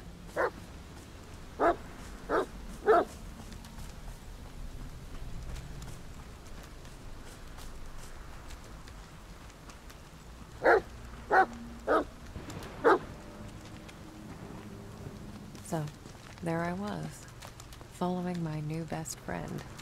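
Dogs bark in a forest in the video game The Medium, with sharp barks heard in short clusters: three early, then four more near the middle. Whining and yelping sounds come at the end, and speech is heard in between.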